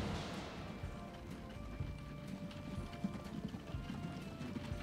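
Horse-drawn wagons in Transport Fever clip-clop steadily in the video game, a faint, continuous patter of hooves mixed with low ambient rumble and no talk.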